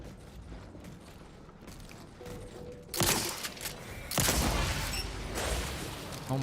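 Gunfire in The Outer Worlds 2 video game: two sharp, loud shots a little over a second apart, set against mechanical clanks and ambient game noise.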